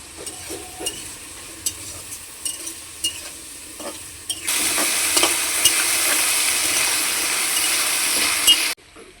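Carrots and beans frying in oil with turmeric: soft scattered sizzles and stirring clicks, then a loud steady sizzle bursting in halfway through that runs until a sudden stop.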